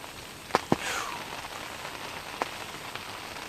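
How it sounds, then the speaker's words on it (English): Steady rain falls outdoors during a Missouri rifle deer season hunt, a soft continuous patter with a few sharper close drips standing out. "But it has rained. I mean, it has been coming down."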